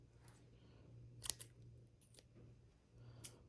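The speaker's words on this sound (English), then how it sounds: "All I need to do is cut off some decent strands of string here." Scissors snip through strands of yarn while sketchbooks are being made: two or three quick, crisp cuts close by, the loudest pair near together, over a low steady hum with no talking.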